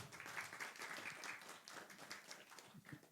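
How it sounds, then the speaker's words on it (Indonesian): Applause from the audience at a focus group discussion session, a soft, steady patter of many hands clapping at a distance, fairly faint and continuous throughout. "tepuk tangan dulu dong"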